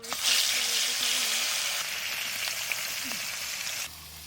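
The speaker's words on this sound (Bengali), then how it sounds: "কড়াই গরম হয়ে গেছে, এবার তেল দিয়ে দিচ্ছি।" Oil hits a hot karahi while a catfish dish is being cooked, setting off a strong, steady sizzle that eases partway through and cuts off near the end.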